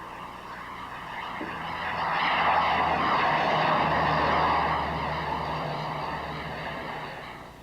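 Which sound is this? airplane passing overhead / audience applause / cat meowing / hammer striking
airplane passing overhead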